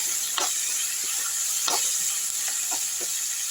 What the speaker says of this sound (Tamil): வெங்காயம் பச்சை மிளகா இதெல்லாம் எடுத்து அப்படியே வந்து இதில் போட்டுடலாம் நல்லா வதக்கி விட்டுடலாம்